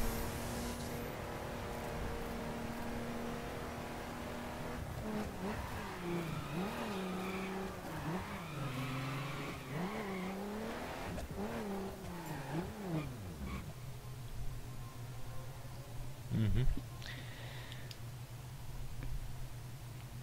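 A Jeep Wrangler Rubicon in the racing game The Crew drives and corners, its engine droning steadily then revving up and down through bends, with a brief tire screech near the end.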